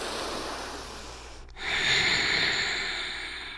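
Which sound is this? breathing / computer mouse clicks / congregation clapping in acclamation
breathing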